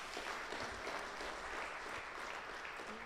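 Church congregation at a Sunday service clapping together in a steady, dense round of applause throughout, heard from across the hall at moderate volume, with no speech over it.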